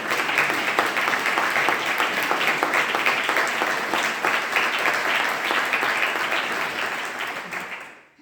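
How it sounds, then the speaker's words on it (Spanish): Steady, loud applause from a large audience at a public talk fills the space, sustained throughout before fading out at the end. "Padre Manuel, Padre José Manuel y Eloy, a ellos tres, darles un aplauso de mi parte, porque se lo merecen."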